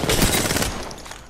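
Rapid burst of gunfire in the battle royale game Apex Legends, loud crackling shots packed into the first half, then tapering into fainter trailing pops.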